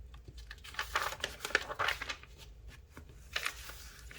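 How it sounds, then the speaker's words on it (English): Paper crinkles and rustles as it is folded and cut for a gift card holder, with close, irregular crisp bursts of handling noise. "let's see if we can give this a little fold and cut off some"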